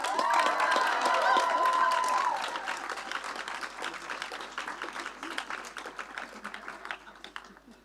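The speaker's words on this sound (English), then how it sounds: "I would like you to please give a big round of applause to Kirsten." Applause from the audience at a 2022 class graduation ceremony, loud and dense at first, then easing into lighter, scattered clapping that continues throughout.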